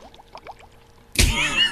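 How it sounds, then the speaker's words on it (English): Water in a bong bursts into loud gurgling, bubbling churn partway through, after a few quieter chirpy sounds, and continues steadily to the end. "That's the water sounds. Just a little bit more bong water there."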